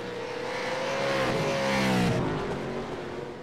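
A V8 Supercars race car at Bathurst in a sim racing game runs at full throttle, the engine note rising and swelling loud, then easing off slightly near the end. A commentator's voice sits faintly under the engine.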